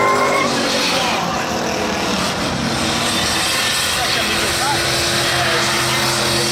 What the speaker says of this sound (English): He's going to try to save it here as he smokes the tires down into 3 and 4. And he's going to spin.